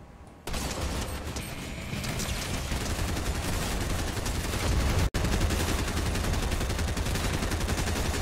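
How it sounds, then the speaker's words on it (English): Shotgun blasts and dense gunfire in Fortnite, loud and continuous with rapid repeated shots over a booming game mix, one sharp break near the end. "I gotta shotgun them in the head"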